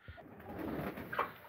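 Pigeons coo softly nearby, a brief low throaty burble, quiet and close.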